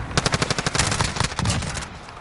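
Rapid automatic gunfire from Call of Duty: Modern Warfare, a dense burst of sharp cracks in quick rhythm that thins out near the end, loud and close with no talk over it.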